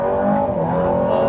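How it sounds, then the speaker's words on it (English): Aston Martin Valhalla turbo engine sound with a brief wastegate flutter, a steady, loud close-up engine tone that holds throughout without a break. "Little flutter from the turbo wastegate then"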